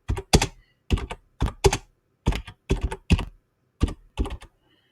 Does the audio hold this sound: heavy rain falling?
no